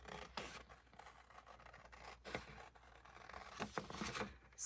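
Scissors snipping through paper border strips on a craft table, a run of close, quiet rasping cuts and rustles with small sharp snips, no talking.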